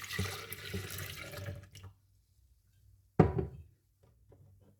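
Milk poured into a jug for a strawberry milkshake, with a steady liquid stream for about two seconds, then a pause, a sharp thunk and a short second splash.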